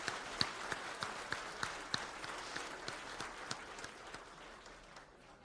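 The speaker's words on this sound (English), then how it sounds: "Congratulations and a round of applause to our newly elected 3-year" Scattered, faint applause from a chamber of commerce annual meeting crowd greeting newly elected board members, sparse individual claps heard from a distance in a large room.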